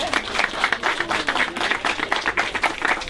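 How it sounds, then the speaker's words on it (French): A small crowd at a world record attempt for the largest chocolate tart in Le Puy claps steadily, dense overlapping applause sustained for several seconds at close range. "on peut les applaudir"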